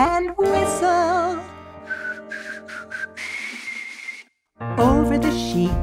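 A person whistles a wavering, playful tune, close and clear, with short trilled notes and held tones broken by a breathy hiss and a brief pause before the melody resumes.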